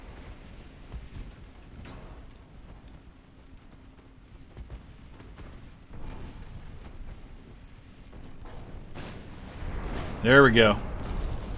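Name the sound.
naval gunfire and shell hits in a warship video game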